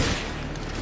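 Rapid-fire rifle shots from a video game, using the Tyr's Hand rapid fire setting, form a dense, continuous burst of gunfire that stays steady and loud for under a second.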